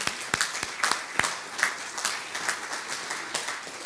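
Audience at a conference in a college hall giving a round of applause, with sharp individual claps standing out close by over a thinner spread of clapping from a modest crowd.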